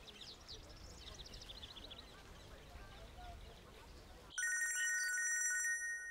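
Faint chatter and bird-like calls give way to a loud electronic phone ringtone that sounds for about a second and a half, then stops.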